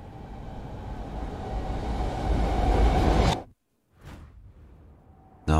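Train rumbling in the video game Ghostwire: Tokyo, a heavy low roar swelling for about three seconds before cutting out abruptly, followed by a brief whoosh and a quieter lingering hum, with no talking.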